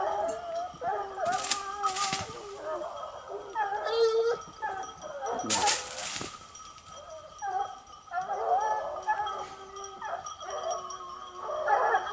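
Hunting dogs bark, yip and howl at a distance outdoors during a wild boar drive hunt in the Gard, France, bursts of noise rising and falling over about twelve seconds, with occasional voices.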